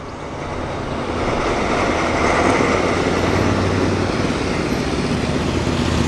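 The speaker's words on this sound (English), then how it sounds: "Ford D series breakdown truck" A classic Ford D series breakdown truck rolls past on a road run for classic lorries, its engine a steady loud rumble that swells and holds among broad road noise, with no talk.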